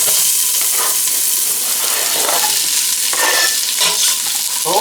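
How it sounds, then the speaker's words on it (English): Red onions frying in hot olive oil in a saucepan, a loud continuous sizzle with repeated stirring scrapes throughout, up close and with no one talking. "Put my onions in there."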